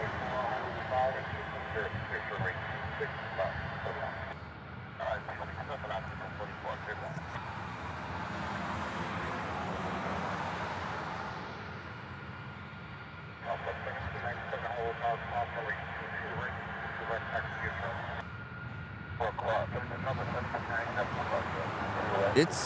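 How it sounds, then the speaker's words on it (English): A United Boeing 757 airliner departs in Hawaii, its jet roar a steady, broad, loud rush that swells and holds across the whole stretch with no break. "The next departure over on this end is going to be a United 757"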